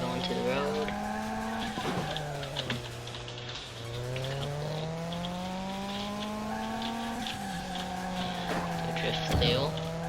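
Tires squealing as a car drifts through corners in a racing video game on a dusty desert track, the engine droning steadily with long sliding squeals that rise and fall across the whole stretch, loud and close.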